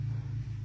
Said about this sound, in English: One of my sons just drove up on the four-wheeler.